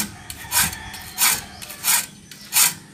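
A hand file rasps across handsaw teeth during sharpening, four distinct scraping strokes in a steady rhythm with brief pauses between them, close and clear with no talking.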